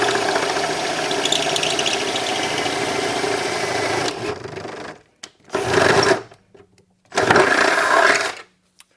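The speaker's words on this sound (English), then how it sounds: "Drill it up through the floor pan." A power drill with a half-inch bit bores up through a Mustang Fox Body car floor pan, whining steadily for several seconds, then cutting out and restarting in two short bursts with gaps of silence between.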